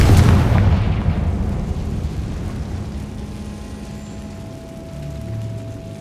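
Bombarda and Confringo spell explosions in Hogwarts Legacy on PS5, a heavy booming blast that rolls and decays over several seconds, with a faint tonal hum lingering in the tail.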